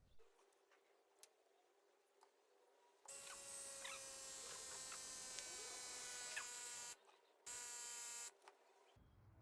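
A small electric pump inflating the front tire of a Xiaomi M365 scooter, a faint steady buzzing drone that runs for about four seconds, stops, then starts again for a short second burst, heard alone in a quiet room.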